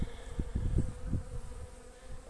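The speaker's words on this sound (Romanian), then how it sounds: "Aici pe adăpătorul ăsta vedem că sunt albinuțe." Honeybees buzz around a water feeder near a hive, a faint, close hum with a few brief louder passes of individual bees, no voices.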